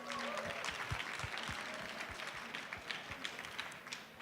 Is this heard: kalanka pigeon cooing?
no